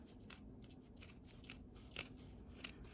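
Scissors snip through fabric quilt binding in a series of soft, crisp cuts over a low steady background hum, close and fairly quiet.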